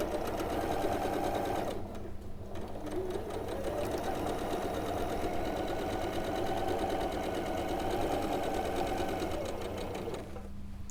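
A sewing machine stitches through layers of quilt fabric in a loud, steady whirring run, pausing briefly near the start and again at the very end.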